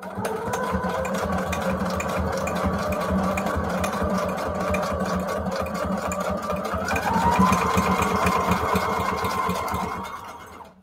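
A sewing machine stitching through paper runs in a fast, steady mechanical whirr with rapid needle ticking, close and loud, briefly shifting pitch near the end before stopping.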